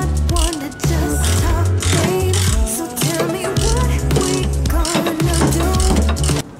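Loud, continuous mechanical grinding and ratcheting as rusted screws are loosened on a Ford Focus MK1 door, close up, with no talking.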